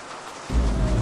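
Steady rain in a small town in a horror video game, a soft hiss that swells into a heavier, louder downpour halfway through.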